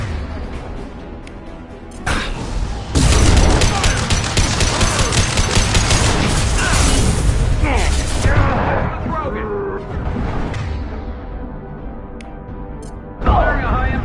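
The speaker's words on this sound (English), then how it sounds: "Firing a high-impact shot." Mass Effect combat with loud, dense automatic gunfire and heavy impacts, sustained for several seconds amid voices talking over the action, with a final sharp blast.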